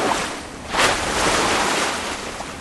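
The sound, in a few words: ocean waves hitting a sailboat in rough sea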